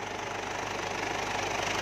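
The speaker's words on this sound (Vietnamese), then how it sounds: "Máy nổ cực êm." A 2009 Ford Everest engine runs close by at a steady idle, with an even, continuous rumble and no voices.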